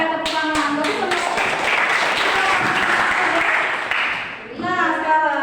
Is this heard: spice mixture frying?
no